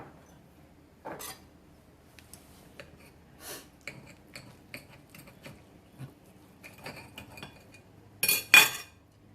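Cutlery clinking and scraping on a plate while someone tastes cube steak with gravy and onions, with quiet scattered taps and a louder clatter near the end, no talking.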